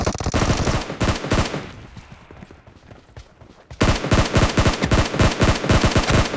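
Gunfire in the battle royale video game PUBG, dense rapid automatic bursts, loud and close, that pause briefly and then resume in a hard sustained rattle.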